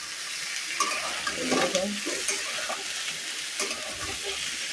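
Raw sweet pumpkin frying with dried chilli in a pan, a steady broad sizzle with stirring scrapes throughout, fairly loud and close, with a single brief spoken word.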